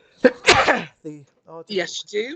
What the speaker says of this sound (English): People sneeze in